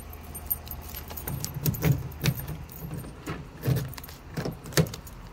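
Keys jangle in a series of short metallic rattles and clinks while someone unlocks a door on a drizzly day, with a few louder bursts over a low hum of outdoor background noise.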